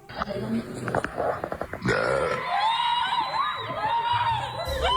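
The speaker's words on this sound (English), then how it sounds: "strange and horrifying sound of a loud burp" A long, loud, guttural burp rumbles out after a burst of noisy commotion, followed by shrieks and raised voices.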